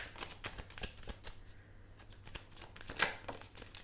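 Guardian Angel oracle cards are shuffled by hand in quick, crisp riffling bursts, close and alone, with a brief sharper slap near the end.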